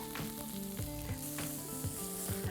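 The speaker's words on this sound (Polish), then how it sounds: "I teraz dodam odrobinę ciecierzycy i jeszcze troszkę słodkiej papryki." Chickpeas and sweet paprika sizzle and fry steadily in a pan with chorizo for a taco filling, with a close, continuous crackle broken by a few stirring scrapes.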